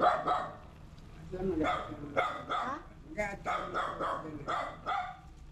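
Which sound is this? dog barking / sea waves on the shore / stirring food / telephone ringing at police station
dog barking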